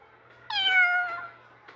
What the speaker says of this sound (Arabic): ايه القطة اللي هنا في الفصل؟ مين اللي جاب القطة دي؟